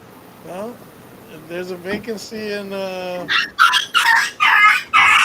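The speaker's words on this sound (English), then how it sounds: "That's the dog" A dog barks several times in quick succession in the second half, loud and close, following a stretch of conversation and a brief tonal sound.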